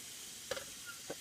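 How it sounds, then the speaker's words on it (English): Food cooks in a pan inside a vehicle, giving a faint, steady hiss of sizzling with a couple of soft clicks and stirring taps, then a louder burst at the very end. "that's sizzling up nice."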